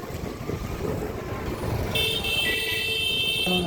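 A car driving in heavy rain, with steady broadband road and rain noise throughout and a few tonal beeps or horn-like sounds joining near the end.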